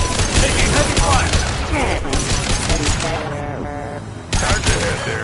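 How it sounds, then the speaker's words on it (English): Heavy gunfire in a PS4 video game, a dense fusillade of rapid shots and impacts that runs almost continuously, loud and close, with in-game voices and effects mixed in. "Taking heavy fire!"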